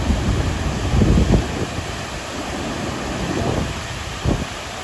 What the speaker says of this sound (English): So here we are at Dudhsagar Waterfalls.